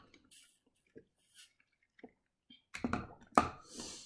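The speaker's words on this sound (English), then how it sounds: "I gotta drink some water" Person drinking water, with soft sparse sips and a faint drip at first, then louder gulps and swallowing sounds close to the microphone near the end.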